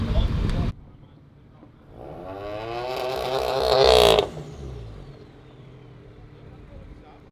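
A tuned car's turbo spools up as it accelerates, a rising whine and engine roar building for about two seconds before cutting off abruptly, with people talking and shouting over it.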